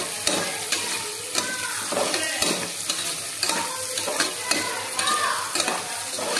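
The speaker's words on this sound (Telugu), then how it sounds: "నెక్స్ట్ దీనిలో టమాటా ముక్కలను అయితే యాడ్ చేసుకొని వీటిని కాసేపు అయితే మగ్గనివ్వాలి" Tomato pieces frying in a pan for gongura pulav, a constant loud sizzle broken by repeated scraping and clacking stirs at an uneven rhythm, close up.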